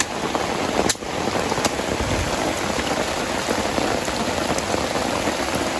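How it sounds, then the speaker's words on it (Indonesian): Rain pours onto a leaking tent at a bamboo-forest campsite, a loud steady drumming with a brief thump near the start and scattered louder drops. "Hujan teman-teman."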